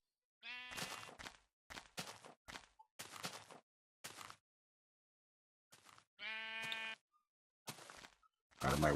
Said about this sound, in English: Out of my way, sheep.